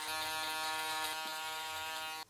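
An electric foil shaver buzzes steadily against hair during a fade haircut, a loud, close, continuous hum that holds for a couple of seconds and then cuts off.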